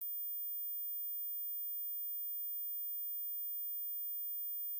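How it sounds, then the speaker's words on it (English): A pure, steady high-pitched tone holds unchanged and alone for about five seconds, with several fainter high tones layered over it. "If you heard this high frequency sound"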